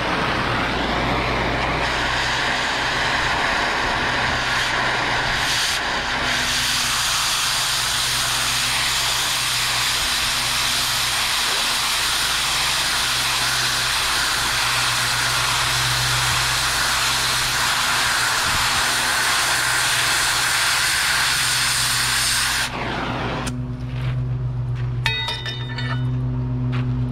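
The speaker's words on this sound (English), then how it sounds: "Sorry about the riding mower, whoever's cutting the grass." A riding lawn mower cutting grass drones steadily nearby as a loud, continuous engine roar with a low hum. It cuts out near the end, leaving a few light clinks and quieter background noise.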